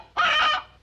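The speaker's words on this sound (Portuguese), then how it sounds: "Galinha, doutor. Galinha!" A chicken gives a single loud, close cluck in a rural comedy film scene, heard alone and lasting under a second.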